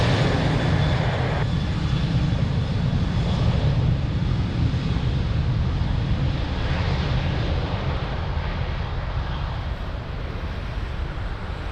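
A jet airliner taking off from runway 02 at Lisbon Airport, a loud sustained engine roar with heavy low rumble and wind buffeting that slowly eases toward the end.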